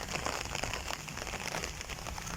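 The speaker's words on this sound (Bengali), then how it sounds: "সকাল বাজে 10টা, শুরু হয়ে গেল বৃষ্টি" Steady rain pours across a waterlogged village during a long spell of wet weather, a dense, continuous patter on surfaces all around, with no voices.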